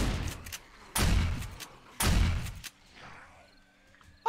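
Explosions in the survival video game 7 Days to Die, two loud broadband booms about a second apart with crackling decay, followed by quieter rumbling game noise.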